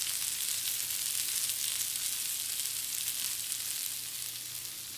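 Surf and turf sizzling on a hot grill, a steady loud crackling hiss that holds evenly throughout with no talking.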